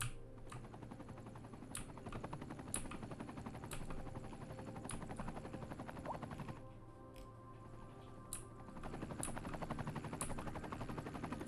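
Helicopter in the Cities: Skylines city-building game, a fast, steady rotor chatter held at moderate level with a few sharp clicks recurring every second or so, briefly dipping midway before resuming.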